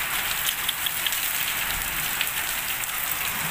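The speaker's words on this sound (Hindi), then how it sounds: "ये देखिए कितनी बारिश हो रही है" Heavy rain pours down steadily on a Himachal village, a dense, even hiss of drops drumming on surfaces with no voices.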